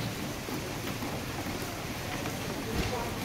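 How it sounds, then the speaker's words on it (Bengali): Heavy rain pours down steadily in a home kitchen during the morning, a dense, continuous hiss with a low rumble underneath that stays even from start to finish. "যা বৃষ্টি শুরু হয়েছে, বাপরে বাপ"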